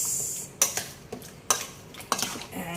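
Metal spoon stirring marinating beef for kaldereta in a bowl, four distinct clinks scraping against the container at a steady pace, close and clear with no talk.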